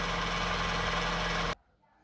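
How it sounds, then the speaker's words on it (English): A car engine idles while still cold, a steady broadband hum with a low drone that cuts off abruptly as the engine is switched off, leaving near silence. "So we switch off the engine."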